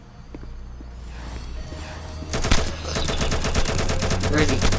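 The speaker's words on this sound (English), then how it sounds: "I'm just shooting" Gunfire in the Roblox Mad City video game, a rapid automatic burst of shots starting midway and continuing steadily to the end, after a quieter stretch of game ambience.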